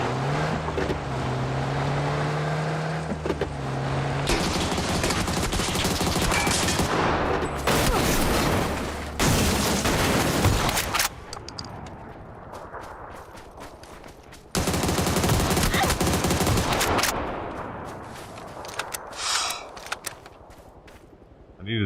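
Shotgun fire in a video game: loud, dense bursts of blasts and rapid gunfire come in long stretches, separated by quieter gaps filled with rumbling engine-like noise.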